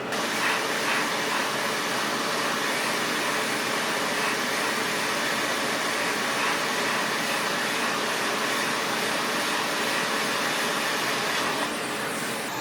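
A hot air rework station blows at 470 °C and near-full airflow to desolder a port from an Xbox One S board, making a constant close, loud rushing hiss that holds unchanged throughout with no speech.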